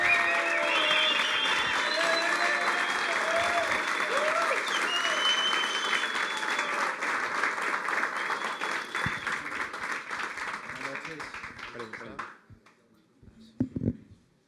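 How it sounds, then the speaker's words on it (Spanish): Sustained loud applause from a large conference audience welcoming a speaker, steady for about twelve seconds before fading out, with a few scattered claps at the end. "Recíbanme con un aplauso a Lucas Vázquez, señoras y señores."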